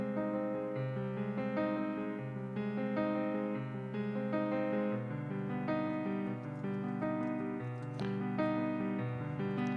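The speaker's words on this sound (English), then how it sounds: "I just recorded it on my piano." A piano plays a slow, moody melody over sustained low chords, close and clear, with no voices.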